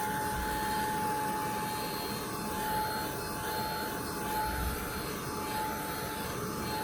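A heat gun blows steadily over a wet watercolor painting, giving a constant airy whoosh with a thin, even whine that holds throughout.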